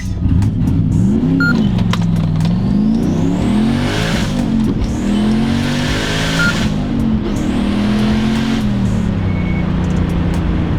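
A turbocharged Volvo running about 6 psi of boost accelerates hard from a launch in a 0-60 test, engine revving loud and close with rising and falling pitch through gear changes and steady roar throughout.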